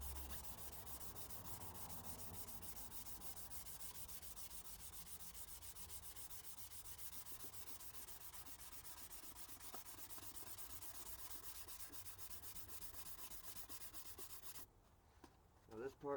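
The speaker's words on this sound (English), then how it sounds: "a person can get away with sanding vigorously" Steady, vigorous hand sanding of body filler with continuous abrasive rubbing strokes, close up, ending abruptly near the end with a couple of faint knocks.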